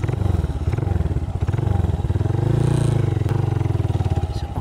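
A Chinese-made motorcycle with a roughly 200cc engine copied from the Honda XR200 thumps along at a steady, relaxed pace, its single-cylinder pulse loud and close, swelling briefly as the rider eases on the throttle before settling back.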